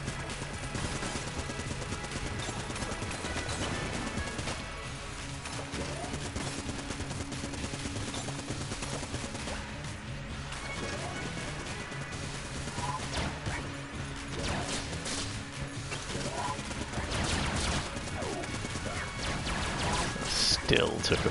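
Rapid Gatling gun fire in the bullet-hell game Enter the Gungeon, a steady dense rattle of shots that continues through the whole stretch over busy game noise and music, with a voice talking at times.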